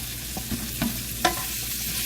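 Cabbage sizzles steadily in a hot frying pan, with a few soft stirring knocks and scrapes on top, close and moderately loud.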